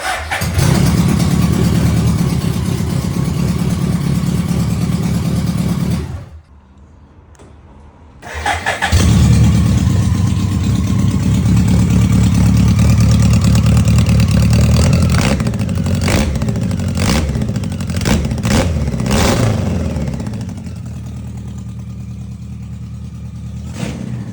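A BMW K100 cafe racer motorcycle fitted with Yamaha R1 forks cranks and fires loudly up close, cuts out briefly, then restarts and revs repeatedly before settling to a lower idle.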